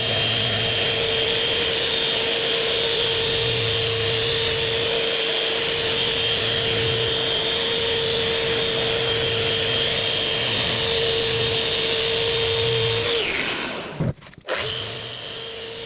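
Power sander working over a damaged coffee table top with Merca abrasive paper: a loud, continuous whine and hum held steady for a long stretch, then spinning down abruptly near the end and briefly restarting.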